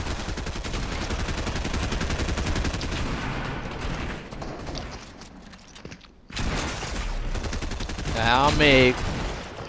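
Rapid shotgun blasts and bursts of gunfire in a video game, dense and loud, with a short lull before more shots and mechanical clatter, while someone speaks briefly over it.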